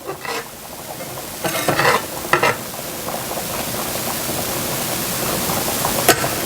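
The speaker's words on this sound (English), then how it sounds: "I'm going to scrape any brown pieces that may be on the bottom" A spoon scrapes browned bits from the bottom of a pan as the chicken Marsala sauce comes to a simmer, with a few sharp scraping strokes over a steady low sizzle and bubbling.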